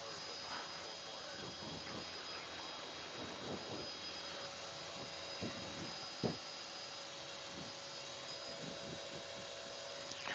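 Steady whining turbine hum of a helicopter engine running before takeoff, continuous and fairly loud, with occasional clicks and thumps.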